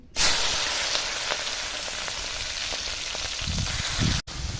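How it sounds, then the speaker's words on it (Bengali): Prawns dropped into hot oil crackle and sizzle loudly up close, a dense continuous fry with scattered pops and light stirring clatter, cut by a brief dropout near the end, with no speech. "ওই তেলের মধ্যে আমি দিয়ে দিলাম আমার মাছগুলো চিংড়ি মাছ দিয়ে ভাজি নিচ্ছি"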